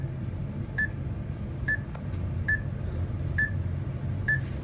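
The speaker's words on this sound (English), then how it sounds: "Everyone be quiet so we can hear the down chime." A soft electronic elevator down chime repeats five times at an even pace, about once a second, over a steady low rumble of background hum, at a Mitsubishi elevator in Chicago.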